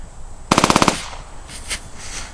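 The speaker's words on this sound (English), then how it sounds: "Shots fired! Shots fired! Get down!" A rapid machine-gun burst of about seven close, loud shots fires in quick succession, then fainter scattered gunfire follows amid battle noise in a Battle of Stalingrad war scene.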